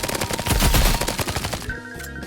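Rapid bursts of Uzi submachine gun fire in a video game, loud and close, a dense stream of overlapping shots that stops abruptly near the end, leaving a faint electronic tone.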